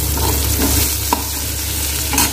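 Soybean chunks fry and get stirred in a pan, a steady close sizzle with occasional scraping and tapping from the stirring utensil, no talking.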